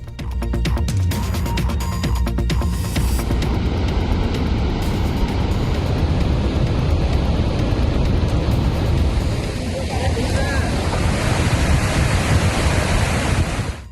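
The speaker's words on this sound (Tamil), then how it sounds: "ஜம்மு காஷ்மீரின் சலால் அணையிலிருந்து திறக்கப்படும் தண்ணீர் சீரிப்பாயும் காட்சிகளே இவை." Water released from the Salal dam in Jammu and Kashmir rushes loudly down the flooding Chenab river, a continuous dense roar that stays steady throughout.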